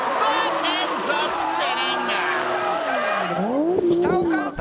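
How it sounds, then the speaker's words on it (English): Yusuke Kitaoka's high-powered Nissan Stran at a 2010 D1SL professional drift round in Nikko, pushed into a hard drift: loud, continuous tire squeal with a sliding, rising and falling screech as the car spins out, engine noise beneath, with a commentator talking over it. "He muscles his high-powered Stran into a dynamic drift, but ends up"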